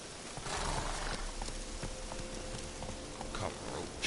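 Roach the horse's hooves clip-clop steadily in Witcher 3, a moderately loud, even walking gait of regular hoof strikes over faint ambient game background with no talking.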